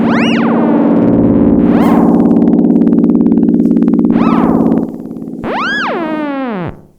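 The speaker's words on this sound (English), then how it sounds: "So that's on full feedback, so that's going to get pretty noisy." A Stylophone theremin on full feedback gives a loud electronic drone with swooping pitch sweeps that rise and fall, harsh and buzzy, with no voices.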